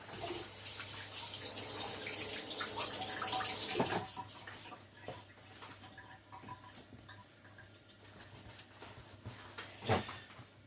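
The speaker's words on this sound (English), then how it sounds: "I just rinse my hands." Hands rinsed under a running kitchen water tap, with a steady close stream of water that fades after a few seconds, followed by a few soft knocks and splashes.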